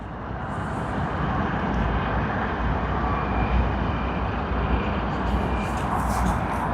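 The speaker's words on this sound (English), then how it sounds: "we do see China Southern Airlines CZ325 coming in from Guangzhou" A China Southern Airlines airliner arrives at Sydney Airport after a flight from Guangzhou. Its engines make a steady, broad roar that stays at a fairly even level for several seconds. There is no talking.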